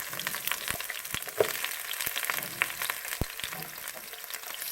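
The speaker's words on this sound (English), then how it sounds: "I'm going to put the green peppers in first. So we'll get our pan is hot. We got our olive oil in there." Green peppers frying in olive oil in a hot pan, a steady close sizzle crackling throughout with scattered sharp pops, no talk over it.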